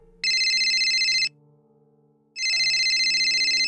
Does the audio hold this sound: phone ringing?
yes